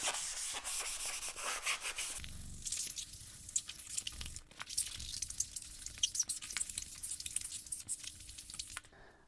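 Vigorous scrubbing of a chalkboard to clear ghosting, a continuous close rubbing and scraping texture with uneven strokes and small crackles, no voices.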